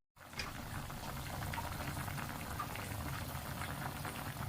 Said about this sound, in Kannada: ಇವಾಗ ಟೊಮೊಟೊ ಬದನೆಕಾಯಿ ಹಸಿಮೆಣಸಿನ್ಕಾಯಿ ಆಲೂಗೆಡ್ಡೆ ಬೆಂದ್ಬಿಟ್ಟಿದ್ದಾವೆ